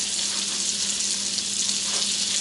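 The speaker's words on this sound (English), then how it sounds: "You take the pan and throw in about a tablespoon of butter." A tablespoon of butter sizzles in a frying pan while cooking chicken marsala, a steady, close, bright crackling hiss that stays even throughout.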